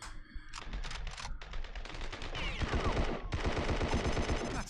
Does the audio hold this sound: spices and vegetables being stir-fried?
no